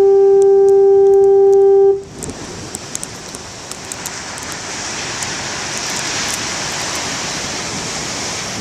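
A foghorn by the sea gives one long, loud, steady tonal blast that cuts off after about two seconds, leaving the broad roar of big waves and surf crashing continuously near the shore.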